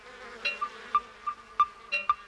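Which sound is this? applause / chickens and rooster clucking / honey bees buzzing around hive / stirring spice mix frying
honey bees buzzing around hive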